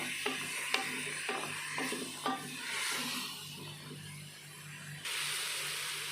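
A spice masala with red chili and turmeric fries and is stirred in a pan, a low sizzle with a few scraping, clanking strokes of the spoon early on, ending in a brighter, harsher hiss.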